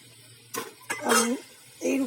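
A pan of koi fish curry in oil being stirred, giving three or four short scraping and clattering bursts of a utensil against the pan, with faint voice-like tones mixed in.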